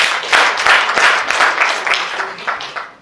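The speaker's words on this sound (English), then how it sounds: "please let us clap for this thing." Audience clapping at a clinical summit and cocktail event during a medical technology hackathon, a dense burst of hand claps for about three seconds that gradually thins and fades toward the end.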